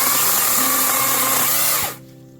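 Badger 20V battery chainsaw cutting through cherry hardwood, a loud steady motor whine under load that holds, then winds down and cuts off abruptly near the end.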